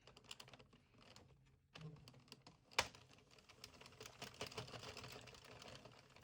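An Addi/Sentro knitting machine cranks rows of waste yarn with a quiet, rapid clicking and clattering, pausing briefly before resuming in an uneven, close-up rhythm.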